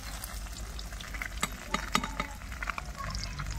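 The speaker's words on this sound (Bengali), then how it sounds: "মাছগুলা লাল লাল ভাজা হয়ে গেছে" Pieces of fish fry in a pan, a soft steady sizzle with a few sharper crackles and pops near the middle, heard close with no speech over it.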